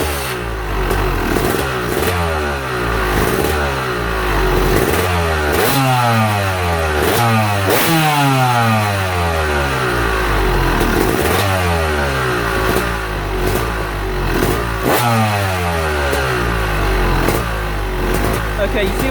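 A Yamaha YZ250 two-stroke dirt bike with a Keihin carburettor fires up and runs loud and close, its engine note rising and falling in repeated blips before settling toward idle, with a voice speaking over it.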